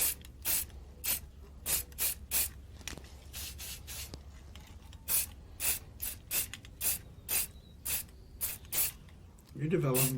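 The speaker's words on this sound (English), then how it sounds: "You're developing pretty good touch with that spray can, right?" Short hissing bursts from an aerosol spray paint can used while freehand carving a walnut slab, about a dozen separate sprays in an irregular rhythm, close and fairly loud, with a steady low hum underneath and a voice coming in at the very end.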